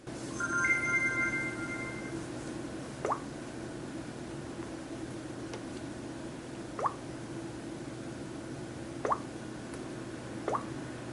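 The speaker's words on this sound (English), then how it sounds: "it's going to make this annoying, like, water drop sound" A Samsung Galaxy S4 running TouchWiz plays its water-drop tap sound four times, each a short, clean plop spaced a few seconds apart over a quiet background hiss.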